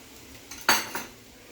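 A spoon mixing veg biryani topped with cashews and ghee in a pot; a few close metallic clinks and scrapes come in a brief burst, otherwise quiet.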